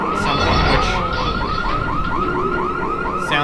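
A car alarm blares in the horror game Liminal City, a loud, repeating warbling siren cycling steadily at close range over a dark, droning ambient bed.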